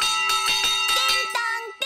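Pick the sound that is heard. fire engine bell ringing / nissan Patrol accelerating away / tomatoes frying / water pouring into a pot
fire engine bell ringing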